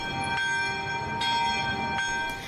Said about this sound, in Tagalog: Pinatunog din doon ang kampana.